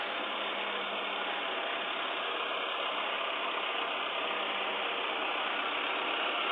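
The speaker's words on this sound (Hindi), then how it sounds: "और एक और ट्राली आ रही है।" A tractor pulling a trolley loaded with sugarcane rumbles toward a sugar mill, a loud, continuous engine drone with a steady mechanical rattle and no voices.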